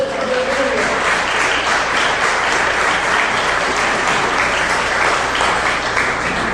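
Dense, loud applause from a church congregation, a steady wash of many hands clapping together that holds without a break for several seconds.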